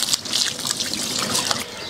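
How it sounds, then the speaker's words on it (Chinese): Scallions are rinsed under running tap water. A close, continuous trickle and splatter of water runs steadily with no voices. "用流水把葱洗干净。"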